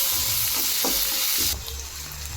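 Cumin, mustard seeds, garlic, onion and tomato frying in hot oil, a loud hissing sizzle with a couple of stirring scrapes, dropping to a softer sizzle after a sudden change.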